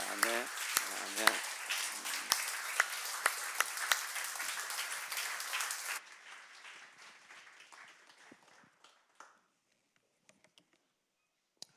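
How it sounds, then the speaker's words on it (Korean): A church conference audience applauding to welcome a speaker: dense, loud clapping from a crowd for about six seconds, then thinning to scattered claps before falling silent. "이제 우리 박수로 같이 환영하면서 마지막 시간에 큰 은혜 받기를 원합니다"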